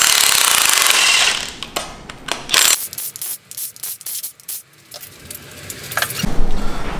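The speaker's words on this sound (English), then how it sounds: "Now I'm going to remove the flywheel." Flywheel removal on an SR20 engine begins with a loud burst of a power tool, likely an impact wrench. Then come scattered metallic clanks, scrapes and ratcheting clicks of parts coming loose, ending in another short buzzing burst.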